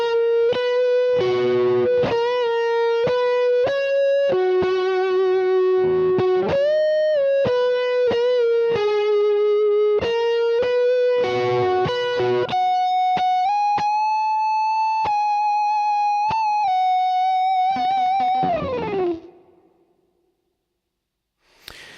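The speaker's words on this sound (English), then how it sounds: "Next we come on to the actual lead guitar part, and that was done on the Ibanez." Sustained lead lines on an Ibanez electric guitar through the neck pickup, thick and creamy with distortion, bending and gliding between held notes alone for about eighteen seconds before fading to silence.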